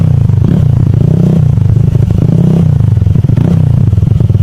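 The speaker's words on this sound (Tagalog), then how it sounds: "Narinig nyo naman mga boss kung gaano kasolid yung tunog. More on bass sound talaga ang output po ng R77 na to." A motorcycle fitted with an R77 Big 51 mm canister muffler idles close by with a loud, deep, bassy rumble, throttle swelling a few times.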